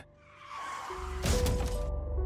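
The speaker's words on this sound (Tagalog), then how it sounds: "Nabasag ang dalawang bintana sa gilid." A car crash sound effect in a horror narration: a rising whoosh, then a loud smash at about the midpoint as side windows shatter, followed by a rumbling, crackling tail of breaking glass.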